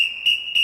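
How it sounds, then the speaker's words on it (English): A single high whistle blown to call children, heard as a steady shrill tone with two sharper louder bursts, close and alone. "I will not need to be whistling for them."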